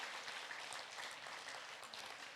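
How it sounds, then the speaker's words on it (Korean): A church audience at an evening autumn revival meeting gives a sustained round of applause, a soft, even, dense patter of many hands heard from a distance. "한 번 더 박수 한번 해주시기 바랍니다"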